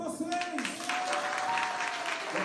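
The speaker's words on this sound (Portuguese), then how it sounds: "Palmas para vocês!" Applause from a church congregation, a steady wash of clapping hands that fills the whole clip at moderate level, with some voices mixed in.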